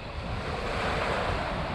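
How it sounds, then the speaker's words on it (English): Wind gusts and lapping waves on a Scottish loch heard from kayaks on the Great Glen Canoe Trail, a steady, close rush of wind noise over broadband surf with no pause. "Bit of wind coming through right now, gusting about 8 mph."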